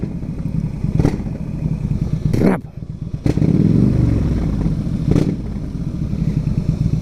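A Yamaha XVS 1300 Custom (Stryker) cruiser motorcycle idles loudly up close at the exhaust, with sharp throttle blips and revs cutting through the rumble several times.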